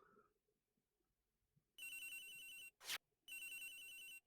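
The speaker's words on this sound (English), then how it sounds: "Agent Hicks' phone! It's ringing from somewhere" A phone ringtone rings in the game Ace Attorney Investigations, loud and electronic. Two sustained bursts of trilling rings are split by a short sharp sweep, following a quiet stretch.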